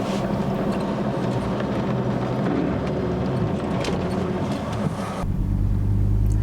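A 4WD engine labors at a steady 1500 RPM while climbing a sand hill on tyres dropped to 30 psi, a loud, constant low drone with rumbling and bumps, heard alone without talk.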